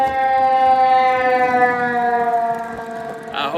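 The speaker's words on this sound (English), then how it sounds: "the ambulance has found the side streets" An ambulance siren sounds loud and steady on a side street, its wailing tone sliding slowly downward as it passes close by, with a brief burst of other noise near the end.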